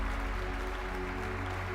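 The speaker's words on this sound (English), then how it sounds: "And they begin to clap for all of you." A group applauding together in a steady wash of clapping that holds level for a moment, set against a low droning background.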